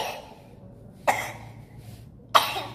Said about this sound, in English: coughing in my face is crazy